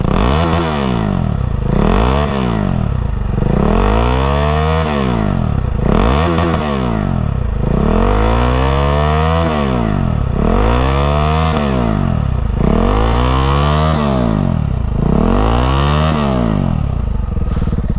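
A modified KTM Adventure 390 motorcycle revs hard up close: repeated loud blips, each a quick rise in engine pitch that falls back, about nine in steady succession, with a raspy exhaust edge.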